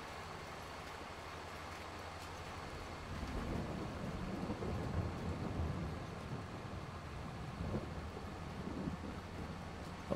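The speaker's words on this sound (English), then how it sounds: "Oh, here comes the rain." Rain and low rolling thunder in Farming Simulator 22 on a farm, a soft steady hiss that swells after a few seconds into a deeper rumble, with no talking.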